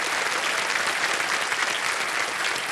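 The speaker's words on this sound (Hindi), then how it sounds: "ताली बज जाए इनके लिए।" A studio audience on the Indian quiz show KBC applauds a contestant, with dense, steady clapping filling the whole stretch, loud and continuous without pause.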